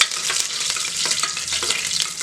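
Chopped garlic tempering in hot oil with mustard seeds, fennel and curry leaves, a loud close crackling sizzle with irregular pops and stirring scrapes throughout.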